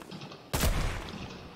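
A single sudden burst of gunfire in Fortnite, a sharp loud crack with a short rattling tail, sits against faint background game sound.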